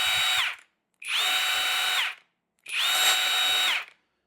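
A cheap heavy-duty impact driver whirs in three separate bursts of about a second each, close and loud, with short silent gaps between the runs.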